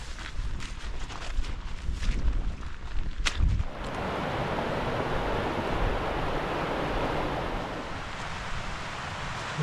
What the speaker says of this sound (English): that's the Ronach River flowing under the bridge